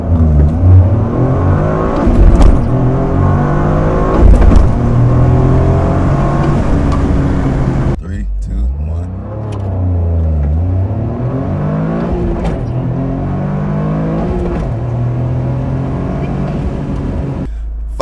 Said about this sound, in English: What does it take to launch this car?